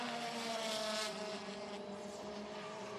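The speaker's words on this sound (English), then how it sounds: "if we can listen to their engine notes here briefly, we can hear what they're doing and struggling with traction" Citroën WTCC touring cars racing at the Hungaroring, engines droning steadily with sustained harmonic tones and a brief louder surge near the start, heard alone without talk.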